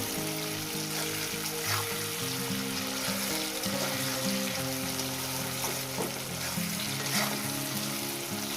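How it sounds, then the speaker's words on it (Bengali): Onions frying in a pan with salt for a fish curry: a dense, steady sizzle and crackle, close and continuous throughout, with occasional soft stirring scrapes and no voices. "এবার এটাকে আমি ভাজবো পেঁয়াজটাকে সুন্দর করে আমি মেখে দেব"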